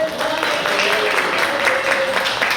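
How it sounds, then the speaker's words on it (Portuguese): Congregation at a Pentecostal evangelical church service clapping in praise, a dense, steady wash of hands filling the room, with a sustained tone and faint voices running underneath. "As palmas louvam o Senhor Jesus"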